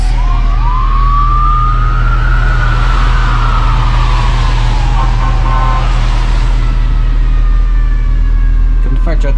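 A fire truck siren wails through town in a rising and falling sweep over a loud, steady engine rumble, close at first and then fading, with a voice talking over it.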